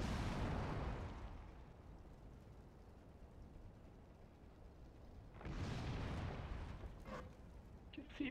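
Deep booms of artillery fire in the World of Tanks video game, a heavy blast at the start rumbling away, then a second broad explosion a few seconds later over a low steady background rumble.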